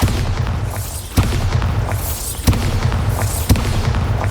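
Blasting spell explosions in the Hogwarts Legacy video game: three deep booming blasts at roughly one-second intervals over a continuous loud low rumble, with no voices.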